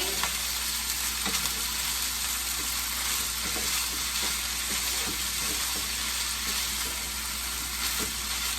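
Fried rice sizzling steadily in a hot pan with scattered clinks and scrapes of a utensil stirring, a continuous close-up hiss throughout.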